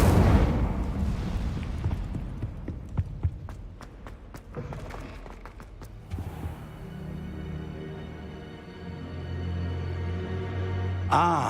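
An Incendio fire spell in a Harry Potter video game bursts with a sharp initial blast, followed by a string of crackling impacts and a sustained roaring whoosh, ending in a final bright flare.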